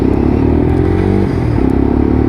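A Lexmoto LXR-SE motorcycle engine runs close by with a steady, loud mechanical hum and a rhythmic pulsing buzz, a slight dip midway before settling back to the same drone, with no voices.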